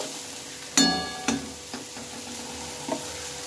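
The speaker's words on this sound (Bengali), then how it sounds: "লবণ হলুদ দিয়ে পেঁয়াজটাকে আগে আমি ভালোভাবে ভেজে নেব" Onion fries with turmeric and salt in a pan, a soft steady sizzle punctuated by a few scraping stirs and clinks near the start.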